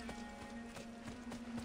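Horse hooves in the video game Assassin's Creed II: a quick run of soft, evenly spaced clip-clop steps, faint and close, over a steady background hum.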